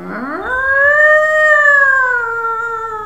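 A single long, wavering howl rises sharply then holds steady before slowly sinking, a voice imitating a cat's yowl, loud and close with no other sounds.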